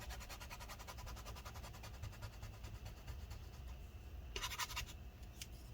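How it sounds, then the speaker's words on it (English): Steady scraping and scrubbing inside an early 2015 13-inch MacBook Pro A1502 as residue is worked off, a faint, continuous rough rasp with quick repetitive strokes and a brief brighter scratch near the end. "Let's see if we can scrub this stuff off."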